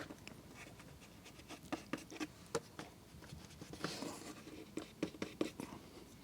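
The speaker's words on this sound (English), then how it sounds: "I'm even going to take an eraser, a kneaded eraser. It doesn't make any crumbs. And I'll just erase these dots." A kneaded eraser rubs out pencil dots on paper during an ink-and-wash sketch, making soft scattered scratchy strokes and light taps, close but faint, with no talking.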